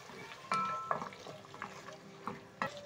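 Beef with spices and tomatoes stirred in a pot, a few distinct clinks and scrapes of a spoon against the pot over a faint quiet sizzle.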